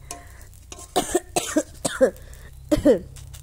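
A person coughs repeatedly at close range, four or five harsh bursts in quick succession separated by short pauses, loud over a quiet background.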